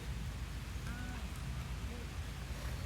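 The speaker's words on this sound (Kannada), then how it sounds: "ಮಳೆ ಬರ್ತಾ ಇದೆ ಜೋರಾಗಿ." Heavy rain falls by a river near Mangalore as a dense, even hiss that holds steady throughout, with faint voices underneath.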